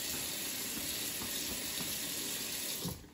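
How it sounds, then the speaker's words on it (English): A tap runs steadily into a sink during hand washing, a constant bright hiss of flowing water that cuts off abruptly just before the end as the faucet is shut with a towel. "the key point is use your towel to turn off the water"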